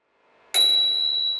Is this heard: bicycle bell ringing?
yes